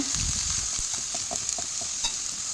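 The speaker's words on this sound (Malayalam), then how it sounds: "ഉള്ളി ഒന്ന് വാടി വരുമ്പോൾ അതിലേക്ക് നമ്മുടെ പച്ചക്കറികളെല്ലാം ചേർക്കാം ഉരുളക്കിഴങ്ങ് ക്യാരറ്റ് ബീൻസ് കാബേജ്" Potato, carrot, beans and cabbage stir-frying with softened onion in a pan, giving a steady close sizzle with soft scraping stirs and light clinks throughout, no voices.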